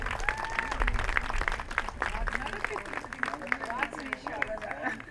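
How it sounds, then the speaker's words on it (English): A crowd at the NSA UK Samarpanam 2024 event applauds in a steady wash of clapping, moderately loud, with voices and some melodic tones audible over it. "Please give a big round of applause, please."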